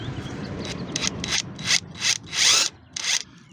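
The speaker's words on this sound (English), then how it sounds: "I'm just going to blarp this up with a ratchet gun" A ratchet gun runs a 17mm strut top mount nut on a 2012 Kia Ceed in short, close, loud bursts, the last few grinding spins separated by brief pauses.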